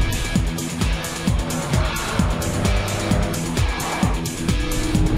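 An Audi with a supercharged 3-litre V6 TFSI engine revs hard on a race track, loud and close, with rapid rising and falling gear-change sweeps and brief tyre noise.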